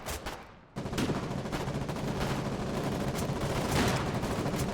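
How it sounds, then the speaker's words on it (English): Dense, sustained light machine gun fire in the war game Foxhole, a loud continuous barrage of rapid shots after a brief quieter opening, with other battlefield gunfire mixed in and no talking. "grab a light machine gun and shoot down everything that moves"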